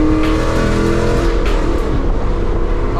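Loud Ford Mustang engine revving hard up close, a continuous throaty roar that holds steady throughout with no pauses.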